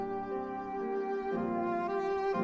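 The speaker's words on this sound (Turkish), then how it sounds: "Bu bir saksafon. Saksafonun sesi böyle çıkar." A saxophone plays a sustained tone rich in overtones, shifting notes partway through, played solo and close with no voices.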